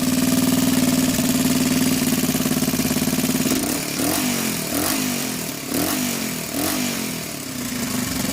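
After a few minutes of warming up, a Honda XL125S motorcycle idles steadily up close, then a series of short throttle blips brings rhythmic surges and dips in the engine note.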